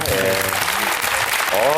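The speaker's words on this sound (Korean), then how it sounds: "박수 한번 주세요" Audience applause at a Korean talk concert with an architect guest, a dense steady clapping wash lasting under two seconds, with a voice talking over it near the start and end.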